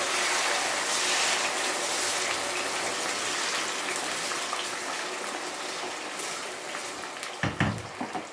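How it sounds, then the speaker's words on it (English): Rice frying in hot virgin olive oil with aloe vera and rosemary seeds, a steady broadband sizzle that slowly eases, with a few clattering bumps near the end. "I'm going to put the rice inside the oil"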